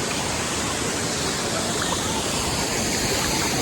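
Quimixto Falls, a jungle waterfall near Puerto Vallarta, Mexico, pours into a swimming pool in a steady, dense broadband roar that stays close and unbroken, with no voices over it.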